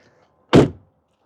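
Single solid thunk of a car door being shut on a 19-year-old vehicle, close and loud, a short isolated impact with a brief dull decay and near-silence around it.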